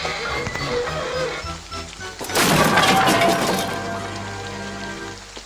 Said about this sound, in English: The wagon struck the signal and it fell to the ground with a crash.